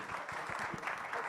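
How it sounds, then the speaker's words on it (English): Audience applause for panelists at the close of a diaspora forum session, a short, steady burst of clapping from a seated crowd, moderately loud and continuous throughout. "Please join me in giving our panelists a round of applause."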